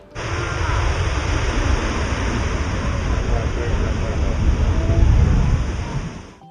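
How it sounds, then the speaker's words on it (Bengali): Sea surf rolling onto Puri beach, a broad continuous roar of breaking waves that swells slightly toward the end, steady and close with no voices over it. "চলুন সমুদ্রের একটু আওয়াজটা শুনে নিন"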